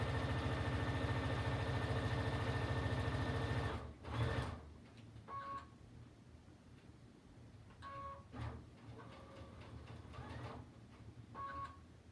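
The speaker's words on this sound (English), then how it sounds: "let's go ahead and sew this last seam together" A sewing machine stitches the last seam of a quilt, running steadily at close range, then stops and gives several short bursts of stitching with quiet handling between.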